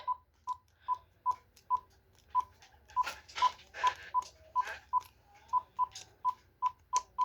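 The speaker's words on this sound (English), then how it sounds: "let's test out all the buttons on the other handset" Keypad beeps from a GE 28214KE2-A cordless phone handset, a string of about twenty short, clear tones pressed one after another at a steady pace, with soft clicks and handling noise between them.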